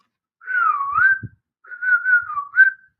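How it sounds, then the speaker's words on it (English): A person whistles two clear, wavering phrases with a short gap between them, used to trigger a sound-detection system that controls Philips Hue smart lights, with nothing else audible. "When I whistle"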